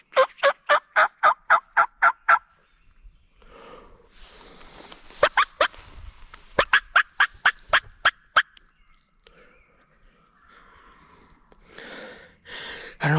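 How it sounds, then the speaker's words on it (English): Wild turkeys gobbling on public land in Michigan's Upper Peninsula, loud rapid rattling gobbles in repeated bursts, one near and clear, others fainter, with quiet rustling and breathing between calls. "which I'm glad I didn't, because they're gobbling still."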